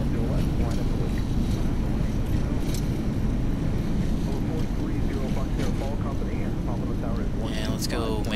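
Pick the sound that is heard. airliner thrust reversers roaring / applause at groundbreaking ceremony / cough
airliner thrust reversers roaring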